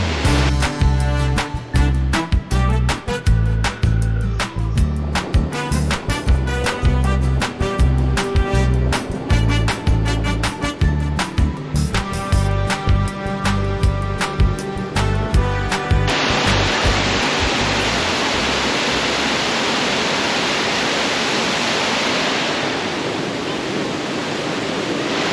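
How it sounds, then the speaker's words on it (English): Tagnote Waterfalls in Remedios T. Romualdez: a broad, steady roar of falling water fills the second half, loud and continuous, after an opening stretch layered with rhythmic music. "At the Tagnote Waterfalls in RTR."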